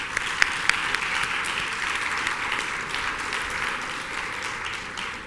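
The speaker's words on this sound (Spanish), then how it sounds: "Recibámoslo con un fuerte aplauso para todos ellos" Audience applause for panel speakers at a human rights forum fills the room with continuous, moderately loud clapping, a couple of sharper claps standing out near the start.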